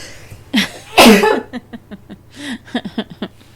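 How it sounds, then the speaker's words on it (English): One loud, explosive sneeze bursts out near the start, with soft murmured talk and small vocal sounds around it. "I'm going to sneeze."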